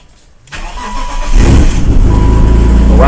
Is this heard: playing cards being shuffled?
no